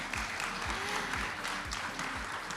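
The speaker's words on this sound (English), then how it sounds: "Please welcome our scientists with a big round of applause." An audience at a science seminar applauds its scientists with a steady, even wash of clapping heard from within the hall, moderately loud and continuous throughout, with a faint low thumping underneath.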